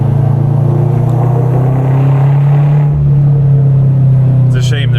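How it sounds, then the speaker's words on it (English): A car engine drones loudly and steadily from inside the vehicle, a deep exhaust hum echoing off roadside rock faces, with a slight rise near the end. "the exhaust notes really come off that rock real nicely"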